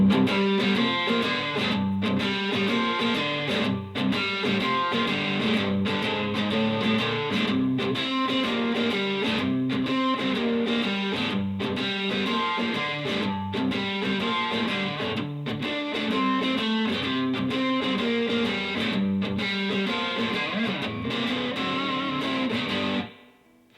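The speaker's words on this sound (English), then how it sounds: "Here's what that same song sounds like at a decent tempo, using my pinky on the high notes and using some distortion on" A distorted electric guitar plays a 12-bar blues in G at a moderate tempo, with steady chugging rhythm and higher notes picked with the pinky, loud and alone until it stops abruptly at the end.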